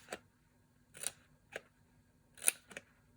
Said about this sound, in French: on va venir faire des petits crans pour pouvoir coller